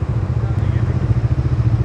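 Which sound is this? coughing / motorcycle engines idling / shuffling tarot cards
motorcycle engines idling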